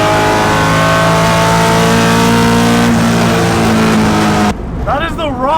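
A Ford Mustang GT V8 runs at a loud, rough, steady idle close by for several seconds before cutting off abruptly, after which a person speaks.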